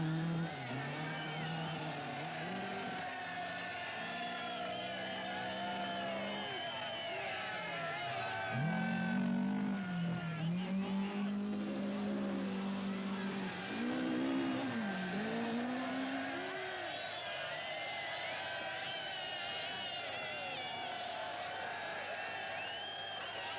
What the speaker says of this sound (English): fueled by the roar of engines and the cheers of thousands gathered at their favourite vantage point